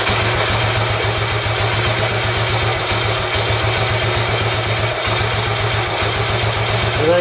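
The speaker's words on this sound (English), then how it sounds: "any bike when properly set up with a Kickstarter, with the carburettor and the timing properly set up, should start as easily as that" A Royal Enfield Bullet 350 classic motorcycle, freshly tuned with carburettor and timing set, settles into a loud, steady single-cylinder idle with an even thumping beat throughout, no voices present.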